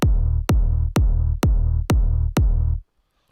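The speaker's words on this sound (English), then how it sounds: "I start with a kick just to get a big room sounding kick" A big-room electronic dance kick drum sample strikes six times at an even, steady beat, each hit punchy and booming with a long low tail, then silence.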